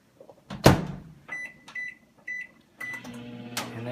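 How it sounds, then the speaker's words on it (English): A microwave oven heating a bowl of peas and carrots: a door thud, a few quick button beeps, then the low, steady hum of the oven starting up close by. "I'm just going to stick it in the microwave for about 1 minute and 30 seconds to heat up the"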